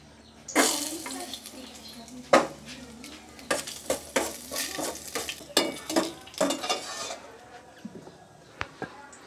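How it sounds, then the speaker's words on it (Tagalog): Pan sautéing ginger for Filipino sinigang, with clattering utensil scrapes, stirring and soft sizzling in rhythmic bursts under quiet kitchen sounds. "Gigisa na po natin. Unahin natin si luya."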